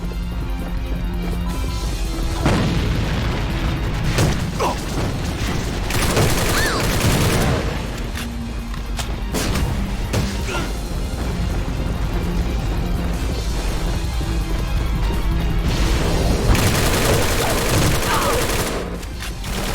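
Gunfire in the online shooter AVA, fired through smoke: loud bursts of automatic shots and heavy volleys in several clusters across the span, with someone talking over the action.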